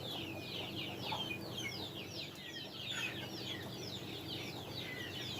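Chickens, including a rooster, cluck in a farmyard, a steady chatter of overlapping calls at moderate distance above low background noise.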